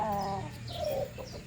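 A red-combed pet rooster gives a few soft, short clucks close by in a quiet setting, with a sharper sound at the very end.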